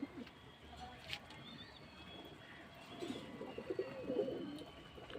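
Pigeons kept for sale at a pigeon market in Beldanga coo softly in the background, low murmuring calls swelling toward the end amid faint ambient noise.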